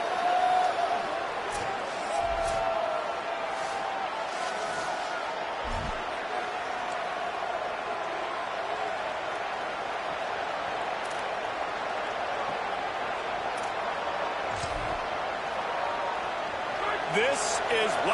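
A large football stadium crowd at a Nittany Lions game roars steadily throughout, a broad continuous wash of cheering with a few sharper bursts, under a play-by-play commentator's voice.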